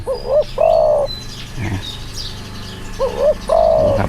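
A dove coos in two rounds of soft, rhythmic calls, close and clear, with faint chirps and rustling between.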